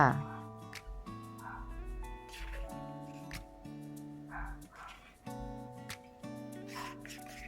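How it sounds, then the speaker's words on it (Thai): A dog barks and yips intermittently in the background of a home kitchen while someone talks over it, the short barks fairly faint and scattered across the clip. "มีเสียงสุนัขเข้ามารบกวนนิดนึงนะคะ"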